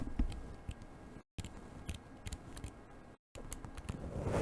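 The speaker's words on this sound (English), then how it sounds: "This is a clicky airflow control." The tight, clicky airflow control ring on a vape atomizer is turned by hand, producing a series of small, close, irregular clicks against faint background noise, with brief silent gaps.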